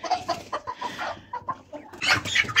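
Chickens and small chicks clucking and cheeping close by in a farmyard, in short bursts with brief pauses, ending in a louder flurry of clucks.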